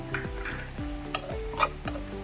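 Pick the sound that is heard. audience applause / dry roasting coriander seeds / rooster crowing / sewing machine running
dry roasting coriander seeds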